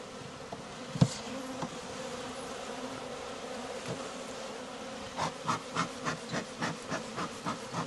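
Bees buzz inside a sparsely populated beehive during a queen-rearing check, a soft steady hum with a knock early on and a run of rhythmic tapping toward the end.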